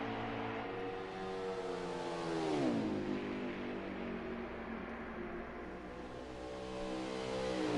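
A race car engine from a sim racing game runs during an Xfinity qualifying lap at Pocono: a loud, steady, high-revving drone close by. Its pitch dips sharply midway as the revs drop, then holds high and even again.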